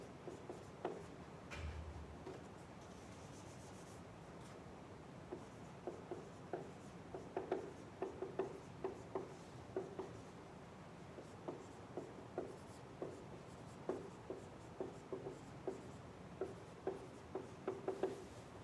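A pencil writes on paper close by and quietly, producing a long run of soft scratchy strokes with a steady rhythm of short taps and scribbles, with no talking.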